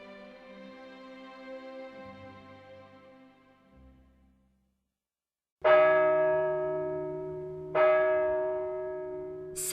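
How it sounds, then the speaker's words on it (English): Bells at a small building near a beach ring out. A fading peal decays into silence, then two loud, resonant strikes land a couple of seconds apart, each leaving a long ringing tail. "Suddenly, some bells began to ring."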